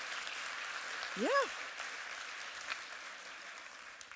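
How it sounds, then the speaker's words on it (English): Audience applause at a technology conference keynote session fills the room as a broad, steady wash of clapping, with one brief voice sounding over it. "Just one warm applause"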